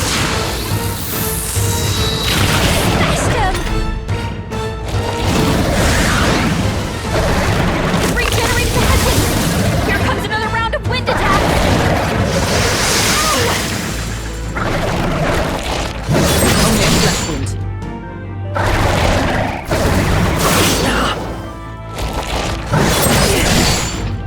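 Raging fire attack in the fantasy role-playing game Metaphor ReFantazio, a dense, continuous barrage of booming, crashing blasts and roaring effects with shouted battle voices over the din.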